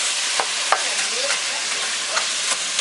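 Coconut milk going into a pot of Haitian-style cornmeal and spinach, heard as a steady close sizzle with a few sharp scraping taps of stirring scattered throughout.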